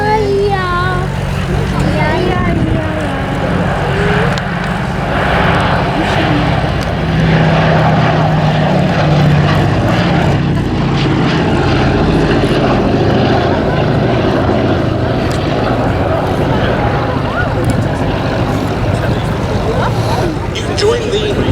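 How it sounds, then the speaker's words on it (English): A B-17G Flying Fortress bomber makes a final low display pass at a Duxford airshow, trailing smoke to simulate two damaged engines. Its piston engines give a sustained loud propeller drone while an announcer talks over the public address. "Final pass of its display now, with smoke on to simulate 2 damaged engines."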